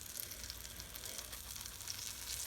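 Blueberry pancakes sizzle steadily in a hot pan, a continuous close frying hiss with faint scraping as a spatula works under them.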